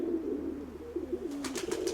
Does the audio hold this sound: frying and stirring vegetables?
no